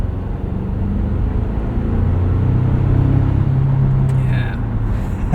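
A 2024 Toyota Tacoma SR5 XtraCab 4x4 with an 8-speed automatic, heard from the cabin while driving at night as a steady low engine and road drone, with a brief higher tone near the end.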